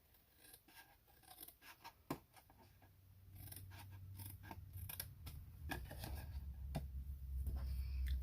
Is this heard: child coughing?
no